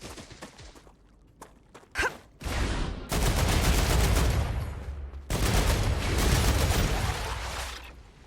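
Enemy gunfire in the sci-fi game StarRupture, bursts of rapid shots and loud sustained firing that rise and fall, with a short gap between two long volleys.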